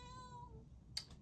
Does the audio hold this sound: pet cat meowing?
yes